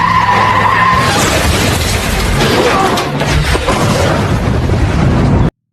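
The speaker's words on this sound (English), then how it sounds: "The car exploded immediately." A race car in a film crashes and explodes, a loud continuous roar of skidding tires, crunching impact and blast noise filling the whole stretch before cutting off abruptly at the end.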